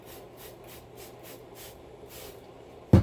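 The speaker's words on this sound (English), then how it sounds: "we're going to hose it down with our little spray bottle" Spray bottle misting water onto pepper seed trays, a series of soft hissing puffs in a regular rhythm, close and quiet, ending with a sudden knock.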